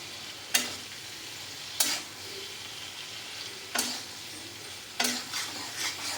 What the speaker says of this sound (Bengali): হলুদ দিয়ে দিলাম, বেগুনগুলো দিয়ে দিলাম।